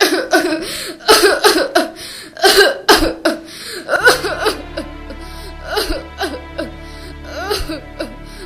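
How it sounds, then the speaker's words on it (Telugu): Repeated harsh coughing fits from a person, bursts coming in clusters, followed by a strained, wheezy stretch with lighter coughs and sighs. "ఇప్పుడు చూడు ఎలా దగ్గుతున్నావు"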